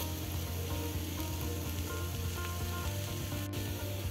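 Onion and Kashmiri chilli powder sautéing in hot oil for a duck egg roast, a continuous dense sizzle and crackle heard close up, steady and loud with no voices.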